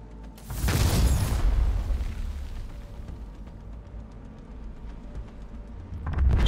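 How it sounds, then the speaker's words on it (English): A rocket launcher blast striking an aircraft in Cyberpunk 2077: a heavy boom that swells and rolls into a long low rumble, fading to a steady roar, with a second burst rising at the end. "She got a motherfucking rocket launcher."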